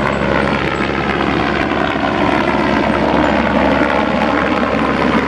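A police helicopter flies in a video game, its rotor and engine drone steady, loud and close throughout, with no talk over it.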